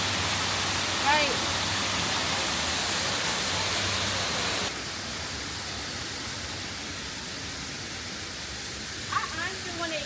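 Rushing water of a hidden waterfall in Thailand, a constant, loud broadband roar that drops a little in level partway through, with brief faint voices over it.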